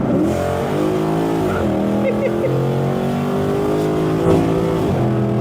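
Chevrolet Caprice with a legendary LS engine accelerating, a loud rising engine note climbing through the gears with brief dips at the shifts, heard from inside the car.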